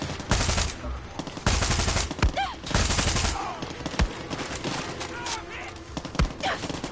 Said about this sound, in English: Someone is firing.